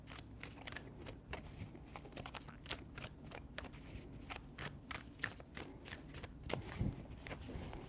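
Tarot cards are shuffled close up in quick repeated riffles and flicks, a crisp papery rhythm of separate bursts that runs steadily throughout at a low level.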